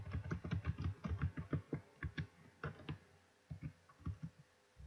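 Typing on a computer keyboard: a run of quick, close key clicks in uneven bursts with short pauses between them.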